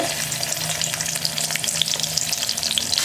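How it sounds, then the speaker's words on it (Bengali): Fish frying in hot oil, a dense continuous crackle and sizzle with small pops throughout, close and fairly loud, with no voices. "তেল গরম হয়ে গেছে মাছটা ভেজে নেব"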